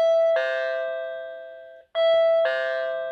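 A Winees smart Wi-Fi doorbell's extra chime unit rings twice, each time a clear two-tone ding-dong that rings out and decays, loud and close in a quiet room.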